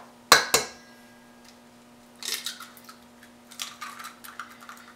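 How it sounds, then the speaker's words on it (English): Egg cracked against a bowl for bibingka batter, two sharp knocks followed by clinks and light scraping of utensils against the dish, close and alone. "we're going to put in the last egg"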